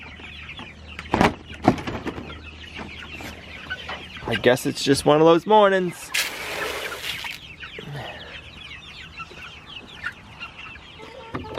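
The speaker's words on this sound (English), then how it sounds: "You chickens look sleepy this morning." Chickens cluck and squawk nearby in short bursts, with a person speaking briefly between the calls.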